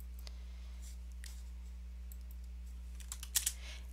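Sparse keystrokes on a computer keyboard, a few faint scattered clicks that cluster more densely near the end over a steady low electrical hum, with no talk.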